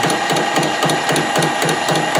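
A metal lathe turning at just over 200 rpm with a 4-thou feed cuts a square thread, making a loud, continuous mechanical grind with a regular rhythmic ticking pulse that repeats about three times a second.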